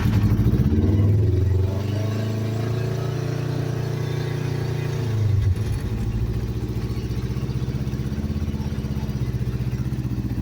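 A 2009 Kawasaki EX500R Ninja runs with the choke on, its engine idling steadily and loudly up close, with a low, even rumble and a brief dip before settling again.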